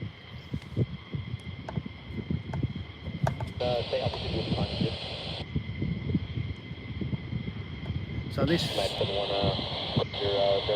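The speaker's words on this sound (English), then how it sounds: "if you can hear my scanner there," An airband radio scanner crackles with a pilot's voice as a jet requests clearance, heard at a plane-spotting spot outdoors; the transmissions come in bursts over wind rumble, with someone talking close by.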